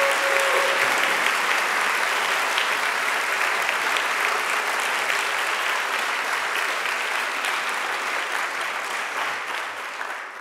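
At an awards presentation, a crowd gives a long round of applause that begins loud and dense, then eases gradually toward the end without any speech.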